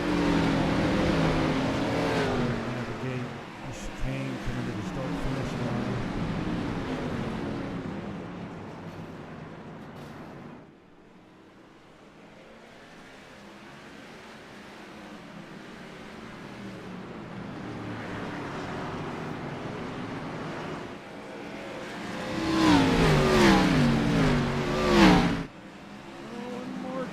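Gen 6 Cup Series race cars in a racing video game, engines roaring and revving through a chicane toward the start-finish line, loud at first, dropping away mid-stretch, then surging again near the end as cars pass close.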